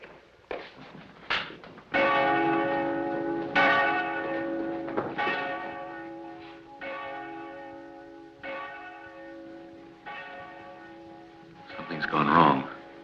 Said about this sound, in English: To ring that bell now would be a serious mistake.